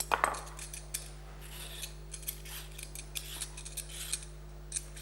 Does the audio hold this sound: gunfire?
no